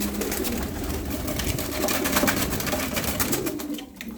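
Large white Adana pigeons coo in a loft in Darıca, a soft continuous murmur of several birds close by with faint rustling and background noise throughout.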